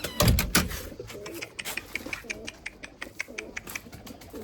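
Limoni breeding pigeons cooing in a loft, repeated low throaty coos in a loose rhythm with a couple of loud close thumps at the start and faint chirps between.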